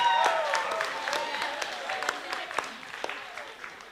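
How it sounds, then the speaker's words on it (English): Wedding reception guests applaud for the wedding party, a fading round of scattered claps with a few sharp individual hits and some voices mixed in. "Let's give them another round of applause."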